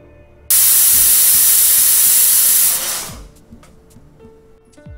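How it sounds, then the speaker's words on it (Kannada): A pressure cooker cooking lentils and tomato for radish sambar lets off steam: an abrupt, loud, close hissing blast lasts about two and a half seconds, then fades into faint clicks and a quiet room. "ನಾನಿಲ್ಲಿ 2 ವಿಸಲ್ನ ಕೂಗಿಸ್ಕೊಳ್ತಾ ಇದ್ದೀನಿ."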